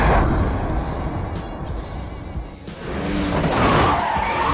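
A car brakes hard on a bridge, and its tires squeal and skid loudly under an engine roar. The screech swells again toward the end.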